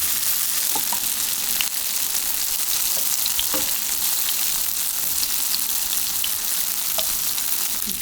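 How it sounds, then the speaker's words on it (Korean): Tofu slices pan-frying until golden, with a steady, dense sizzle of hot oil running throughout and a few faint pops and light clicks scattered over the top, no voices. "노릇노릇하게 굽기만 하면 돼요"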